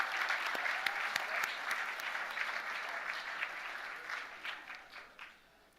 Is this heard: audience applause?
yes